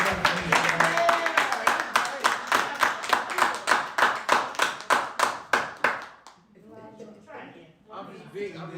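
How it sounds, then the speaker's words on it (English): Church congregation clapping hands in unison, about twenty sharp, evenly spaced claps in a steady rhythm that stop abruptly, after which voices speak quietly. "Everybody clap their hands."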